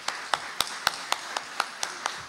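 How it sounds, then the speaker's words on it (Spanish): A small audience at an academic social sciences seminar claps, with about ten distinct, evenly spaced claps in a steady rhythm, fairly close and moderately loud, with no talk over them. "aparte de darle un aplauso a Patricia"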